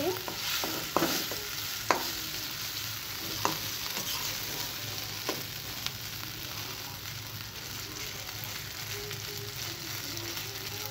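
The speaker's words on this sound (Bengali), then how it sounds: "ভর্তাটা আমি নেড়ে দিচ্ছি ভালো করে।" A utensil scrapes and stirs a papaya, potato and pointed gourd mash in a pan over a steady, low sizzle, with a few distinct scraping knocks early on.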